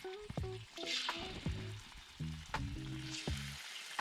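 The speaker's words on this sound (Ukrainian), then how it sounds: "Смажуємо наше м'ясо до готовності" Marinated meat frying in a little oil in a cauldron for Georgian ojakhuri, with a soft steady sizzle and clinks of a utensil stirring, clearly audible though quiet.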